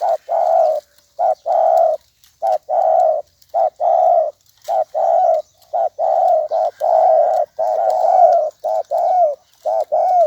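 A dove coos repeatedly and loudly up close, a steady run of rhythmic, throaty calls with brief gaps between them.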